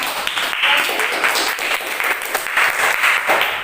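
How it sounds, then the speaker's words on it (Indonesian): Applause for a student, Abi Farhanasi, in a classroom lesson, many hands clapping steadily and fairly loudly throughout, with faint voices mixed in. "beri tepuk tangan untuk Abi Farhanasi"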